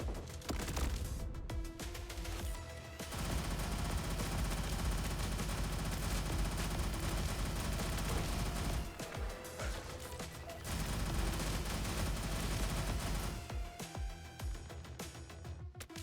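Enemies in the shooter game Turbo Overkill fire on the player in sustained volleys of rapid gunfire, dense overlapping shots broken by a few short pauses, loud and unbroken by talk.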